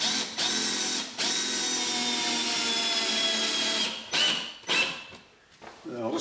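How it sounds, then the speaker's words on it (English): Power drill driving a screw to fix a wooden batten to a wall: a whirring, buzzing motor run of about three seconds, then several short bursts as the screw seats, close and loud. "And then I'm just going to drive in one screw."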